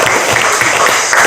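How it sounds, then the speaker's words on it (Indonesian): Classroom applause for a student group during a teaching practice session: a dense, loud burst of many hands clapping together, filling the whole short moment without talk. "tepuk tangan untuk kelompok"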